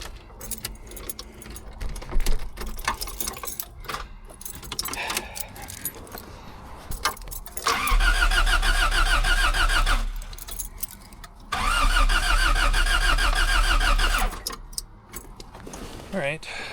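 A 1984 Toyota AE86 Corolla coupe engine cranks loudly in two long bursts of several seconds each without catching, after a stretch of quieter clatter and jingling keys.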